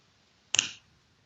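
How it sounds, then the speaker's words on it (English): A hypnotherapist's single crisp finger snap rings out close and sharp against a quiet room, followed by brief stillness. "I'm simply going to snap my fingers."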